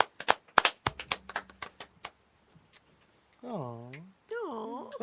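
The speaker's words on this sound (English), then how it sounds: "that was a cute little clap" A quick series of sharp, light claps and taps patters close by, then a few scattered ones, before voices speak briefly.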